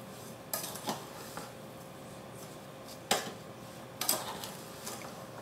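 A spoon stirs strawberries, rhubarb, vanilla sugar and lemon juice together in a pot for strawberry-rhubarb jam, giving a few quiet, scattered clinks against the pot over a soft, hushed background.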